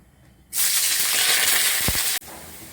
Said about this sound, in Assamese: এয়া আমাৰ তেল গৰম হৈছে। আমি এয়া পিঁয়াজ 3টা লৈছোঁ।